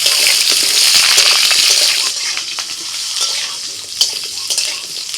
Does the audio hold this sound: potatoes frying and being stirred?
yes